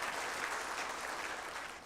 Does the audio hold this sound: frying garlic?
no